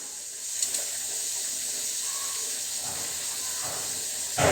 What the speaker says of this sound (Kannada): ಮತ್ತು ಸ್ವಲ್ಪ ಸಾಸಿವೆ ಕಾಳು ಹಾಕ್ತೀನಿ. ಸ್ವಲ್ಪ ಕಡಲೆಬೇಳೆ ಹಾಕ್ತಾಯಿದ್ದೀನಿ.